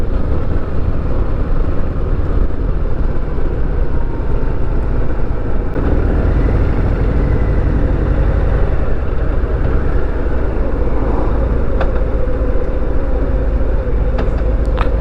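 A Harley-Davidson Heritage Classic motorcycle engine runs while riding, heard as a loud, continuous low rumble mixed with rushing wind noise, steady for the whole stretch with no talking.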